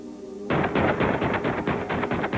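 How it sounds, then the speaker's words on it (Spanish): Feroz balacera as police are fired on from inside a house: a sudden burst of rapid automatic gunfire starts after a brief tonal lead-in, then continues as close, loud, rattling shots. "En las casas colindantes, los vecinos fueron testigos de una feroz balacera."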